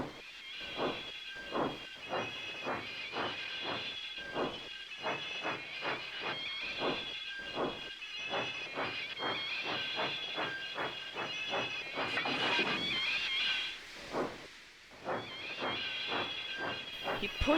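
A steam locomotive in a Trainz railway animation chuffs in a steady rhythm of sharp puffs, with a burst of hissing steam partway through and the puffing resuming after.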